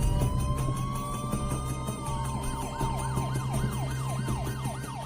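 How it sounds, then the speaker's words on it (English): Several emergency sirens from ambulances and police cars wail together, a rising-falling tone giving way to a fast repeating yelp, steady and fairly near over rumbling traffic. "There was ambulances, there were multiple police cars, fire trucks, a helicopter."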